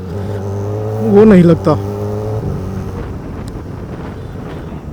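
A Kawasaki ZX4RR four-cylinder motorcycle engine hums steadily while riding, rising briefly in a quick rev before settling back, with wind buffeting the microphone and a person talking over it.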